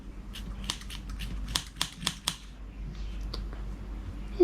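Scissors snipping through bent loops of yarn while making pom poms, a run of sharp, close, crisp clicks in quick succession, then a few fainter snips over a quiet room hum.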